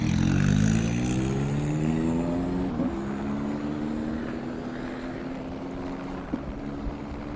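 A rally car runs the tight latter section of a forest stage with a helicopter following overhead, its engine droning loudly and steadily, with one quick pitch dip partway through.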